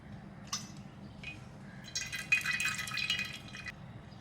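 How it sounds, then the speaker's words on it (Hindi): Half a cup of cooking oil trickles into a pot for beef korma, giving soft intermittent splashy pours and a longer glugging stream toward the end, quiet and close with no talking. "हाफ कप ऑयल है, ये डाल रही हूँ।"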